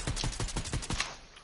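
Gunfire in Fortnite, a quick burst of about six evenly spaced shots, loud and close, fading out into a short tail.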